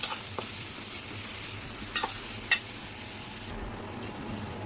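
Spring onion bulb bases sizzle in hot oil with a continuous soft crackle, broken by a few sharp stirring clicks; no one speaks.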